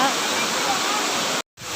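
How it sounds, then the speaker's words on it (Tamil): Waterfall pouring and splashing at a sightseeing spot in Singapore, a loud, steady broadband roar of falling water that cuts out abruptly for a moment near the end before resuming. "எல்லாமே தண்ணி இப்போ அப்படியே தெறிக்குது"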